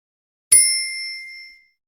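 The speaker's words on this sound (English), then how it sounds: "The bell is ringing." A single bright bell strike in a children's English song rings out clearly and alone, its ringing tone decaying smoothly over about a second into silence.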